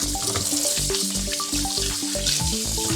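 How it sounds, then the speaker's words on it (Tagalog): Native chicken pieces, rubbed with salt, are washed and rubbed by hand under running tap water in a sink, with a steady close splash throughout and tonal clunks and knocks from the handling. "Kailangan hugasan natin ng mabuti."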